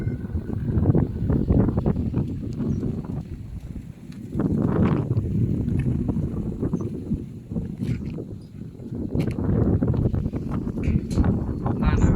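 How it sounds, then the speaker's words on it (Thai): Strong, gusty wind buffets the microphone outdoors at a field where a KOOTAI-A560 Maule Mini 3D four-channel RC plane is flown, in loud rumbling surges that rise and fall. "ลมมันก็แรง"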